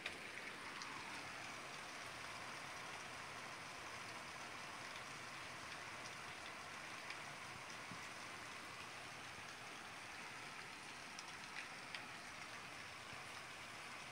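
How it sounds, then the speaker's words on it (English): Heavy rain pours outside after a long dry spell, a steady faint hiss of falling water with no talk. "It is pouring out."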